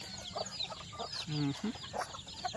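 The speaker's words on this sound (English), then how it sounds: "These are the healthy chicks that are now eating the duckweeds." Healthy young chicks feeding on duckweed, with near clucking and soft chirping calls scattered through the clip and a brief louder call in the middle, over quiet background.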